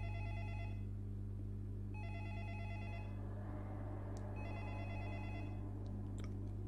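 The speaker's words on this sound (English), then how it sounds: "Oh, phone call." A phone in an analog horror video game rings in three evenly spaced electronic bursts over a steady low hum, with a few faint clicks near the end.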